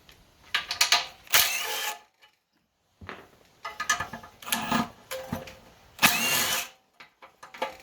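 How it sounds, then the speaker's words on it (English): A small ratchet works on the head bolts of a Honda GX160 small engine with a no-start, no-compression fault, giving quiet bursts of clicking with short pauses between strokes. "I don't know if this little ratchet will break these."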